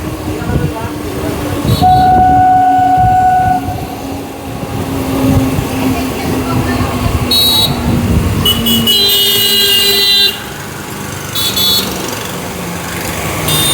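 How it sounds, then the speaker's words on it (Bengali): A Sealdah to Amghata local train runs steadily near the NH-12 highway underpass. Its rumble is loud and continuous, with a few sustained horn tones and bright metallic squeals. A voice speaks intermittently over the noise. "সামনে জাতীয় সড়ক NH-12, আর সেটার নিচে দিয়েই কিন্তু যাবে ট্রেনটা।"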